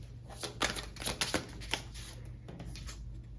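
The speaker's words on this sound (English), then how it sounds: "Okay, so now let's get a tarot card for this." Tarot cards are shuffled up close in quick bursts of crisp slaps and riffles over a low steady hum, and nobody speaks.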